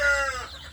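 Young village chicken chicks in a rearing box, a short burst of high chirping peeps, close and fairly faint.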